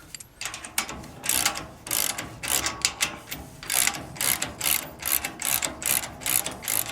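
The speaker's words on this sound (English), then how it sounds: "I'm just using the ratchet to kind of work it loose." A ratchet clicks in rapid bursts, working a loose bolt out of an ASV PT-100 forestry skid steer during a coolant leak repair, with close, even repeated ratcheting strokes and no talk.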